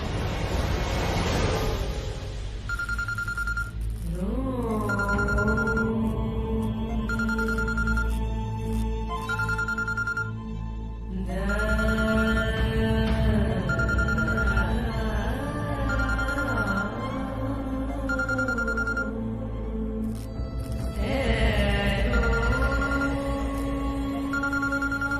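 A phone ringtone repeats again and again, a bright electronic melody looping steadily without anyone picking up, with a low background rumble.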